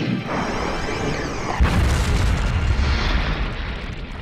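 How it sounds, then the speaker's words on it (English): Blast from a multiple-firing gun in an anime battle, a loud booming explosion with a deep rumbling tail that carries through the whole moment, no voices over it. "A multiple firing gun designed for maximum damage."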